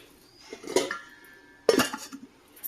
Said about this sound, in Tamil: ஊற வச்சுட்டு மூடி வச்சுக்கலாம்.